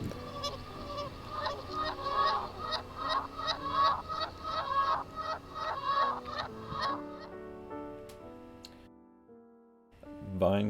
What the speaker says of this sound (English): Geese fly backwards in Racine, Wisconsin.